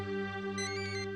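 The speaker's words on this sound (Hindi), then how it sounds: "सुबह सुबह मानसी का फोन" A mobile phone rings with an incoming call early in the morning, a steady electronic ringtone melody held loud and close for about a second, with no voices.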